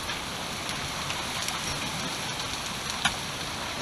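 A torrential rain downpour during a flash flood, a steady, dense roar of heavy rain hitting surfaces with a few sharper drops standing out, with no voices over it.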